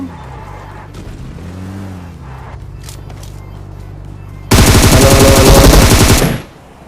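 Rapid AWM rifle gunfire in a video game erupts suddenly after a stretch of quieter ambient game noise, a loud dense burst lasting about two seconds before cutting off.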